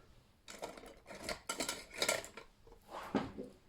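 A metal craft knife is picked up from a crafting table, giving a series of close, light clinks and rattles as tools shift against each other.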